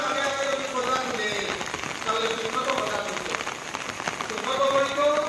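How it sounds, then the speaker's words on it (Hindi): Steady rain patters down at a mosque during Eid al-Adha prayer, a dense even hiss of drops on surfaces that lasts throughout, with faint voices mixed underneath. "जब नमाज से 10 मिनट पहले बारिश आना शुरू कर दिया"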